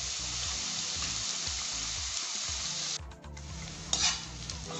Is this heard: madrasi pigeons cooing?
no